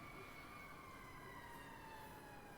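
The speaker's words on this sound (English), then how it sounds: "More sirens." Emergency sirens wail steadily in the distance, a faint continuous rising and falling tone over a low, constant rumble of background noise, with no talking.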